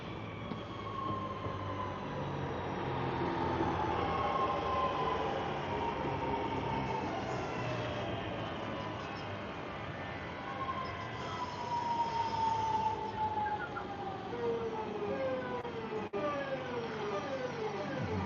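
Trains on a railway pass with a steady rumble and long, high, gliding screeches that rise and fall like wailing tones, fairly distant and continuous.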